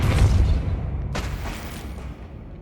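A Depulso spell cast in Hogwarts Legacy bursts out with a booming whoosh, then a sharp secondary burst and fading rumble, alone without speech.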